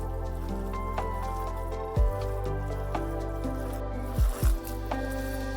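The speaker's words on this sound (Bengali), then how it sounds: "চিড়েগুলোকে একটু হাতের সাহায্যে চটকে নিতে পারলে ভালো হয়" Flattened rice (poha) is mashed and squeezed by hand, giving soft wet squishes, with a few louder squelches standing out close up over a steady background.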